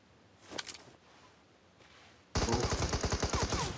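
Automatic gunfire in PUBG Mobile, with one short early burst and a faint later one. Then a loud, sustained rapid volley crackles at close range with no talk over it.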